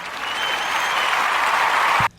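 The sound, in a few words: round of applause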